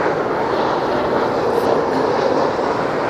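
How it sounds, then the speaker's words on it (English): A new American Airlines Boeing 737 MAX 8 landing at LAX, arriving from San Francisco, gives a loud, steady broadband jet roar that holds evenly throughout with no voices. "In their brand new MAX 8 jet coming in from San Francisco."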